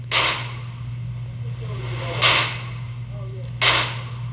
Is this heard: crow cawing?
no